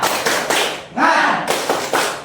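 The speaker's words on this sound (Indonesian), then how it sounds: "Oke, kita tepuk semangat 2 kali dulu." A classroom group performs a rhythmic spirit clap in quick bursts of several claps, broken by a loud group shout, then the clapping pattern resumes. Close and punchy.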